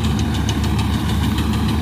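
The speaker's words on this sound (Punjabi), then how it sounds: "ਬਾਕੀ ਆਪਾਂ ਚਲਾਉਂਦੇ ਹਾਂ ਹੁਣ ਟਰੈਕਟਰ" A tractor's diesel engine runs at a steady, close, loud idle with a dense, even throb and no voices.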